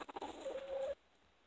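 A Cardinal Kelso game fowl rooster gives a short run of close clucks that ends in a brief rising call before cutting off, on a homestead with no talking.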